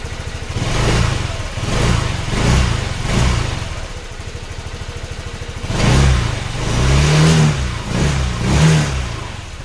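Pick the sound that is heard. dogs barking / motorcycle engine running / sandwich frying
motorcycle engine running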